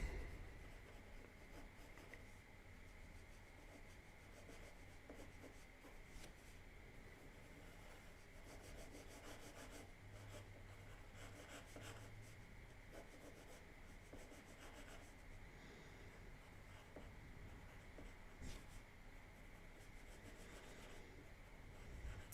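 A pen scratching across paper while sketching a gun drawing, a quiet, close, continuous rubbing with short strokes and pauses in a faint room.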